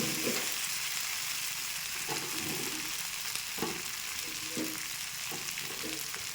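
Pointed gourd (potol) frying in a pan, a steady broadband sizzle with a few soft stirring scrapes spaced through it, no voices.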